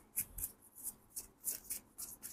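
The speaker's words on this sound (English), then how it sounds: "I had forgot to shuffle the cards, so let's do it now." Tarot cards being shuffled by hand, a quiet run of soft, papery riffles and rubs coming in irregular bursts, close and faint with no speech.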